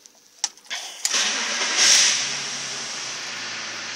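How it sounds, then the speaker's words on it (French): A BMW Z3 Coupé 3.0-litre engine cranks with a few short bursts, catches, and settles into a steady idle hum, close by with no talking. "Je vais démarrer la voiture."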